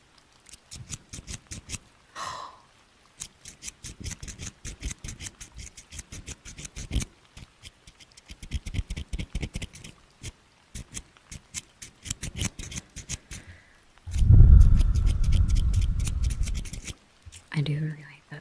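Crisp scissor snips close to the microphone, a quick repeated run of sharp cuts, then a louder rustling burst near the end.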